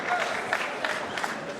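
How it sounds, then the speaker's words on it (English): A crowd at the 2006 World Pool Championship murmurs and stirs in the arena, a diffuse steady buzz with scattered claps and a commentator talking over it. "The crowd is just buzzing."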